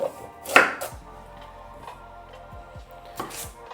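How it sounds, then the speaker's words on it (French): A knife chopping red kuri squash into small cubes on a cutting board, a few crisp close taps with one sharp louder cut near the start, alone without talk. "On coupe un petit dé comme ça."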